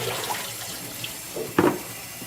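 Tap water runs steadily into a sink for a quick rinse, a close, continuous hiss with a brief splashing surge near the end.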